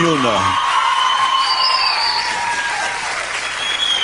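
A standing audience at a Brazil's Got Talent show applauds, a steady wash of clapping and crowd noise under a sustained sung or held tone that fades out early.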